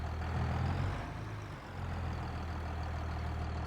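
An old used tractor idles in a farming video game, giving a low, steady engine hum. It swells briefly, dips for a moment, then settles back to an even idle, with no voices.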